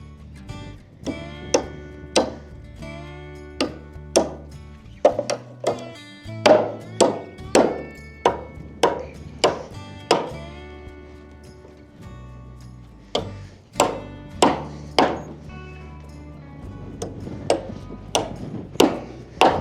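Sharp hammer strikes driving nails into wooden wall framing, coming in quick bursts of several blows with brief pauses, close and loud, no talking.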